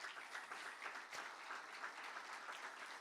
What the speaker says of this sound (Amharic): አጨብጭቡ ቅር ቢላችሁ